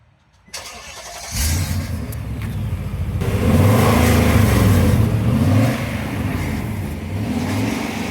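A car with a Magnaflow catback exhaust starts up after a brief silence, then revs repeatedly through its exhaust with a rising and falling engine roar before settling into a loud, steady idle, close and alone.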